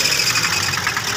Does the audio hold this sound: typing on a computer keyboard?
no